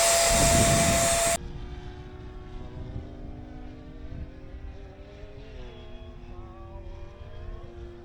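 A Thunderbird RC model airplane on its maiden flight at Fritz Field drones overhead, its motor tone steady but rising and falling in pitch as it maneuvers, after a brief loud rushing burst at the start.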